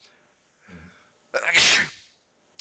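One person sneezes close up, a sharp loud burst after a short indrawn breath, with a brief murmured voice just before it.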